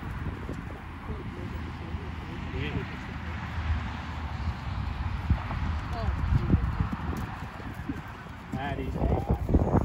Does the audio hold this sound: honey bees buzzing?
no